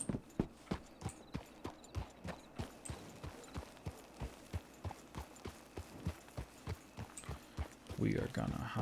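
Horse hooves clip-clop in a steady, even rhythm in Red Dead Redemption roleplay, fairly faint and close, continuing for several seconds before a louder burst of other noise at the end.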